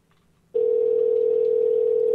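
A telephone dial tone cuts in suddenly after a brief near-silence and holds as a loud, steady, unbroken hum until the end.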